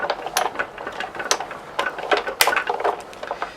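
A die-cutting machine feeds cardstock and metal cutting plates through its rollers, giving a run of close, irregular mechanical clicks, ratcheting and scraping taps with no voices.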